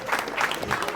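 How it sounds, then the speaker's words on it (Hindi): Brief burst of audience clapping at a Ramleela award ceremony, a dense patter of many hands, close and moderately loud, blended with a voice. "जोरदार तालियां पंकज खजूरिया"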